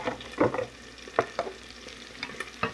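Sliced mushrooms hit butter and oil in a pan, giving a soft sizzle broken by a few close stirring scrapes and clatters, fairly quiet and with no voices.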